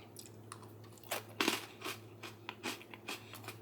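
Crunchy freeze-dried sweet chili corn nuts being chewed up close, a string of sharp, uneven crunches and bites over a low steady hum, with no talk.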